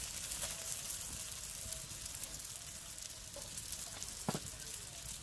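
Msemen flatbread cooks on a plate over a wood fire, hissing in a soft continuous sizzle broken by a few sharp crackles and pops.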